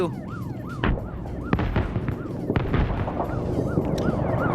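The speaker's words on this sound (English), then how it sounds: "More airstrikes coming in. IFV shots coming in as well." Airstrikes and infantry fighting vehicle gunfire during a large Arma PvP battle, sharp repeated shots and booming impacts over a dense, continuous backdrop of game noise, with rising and falling siren-like tones woven through.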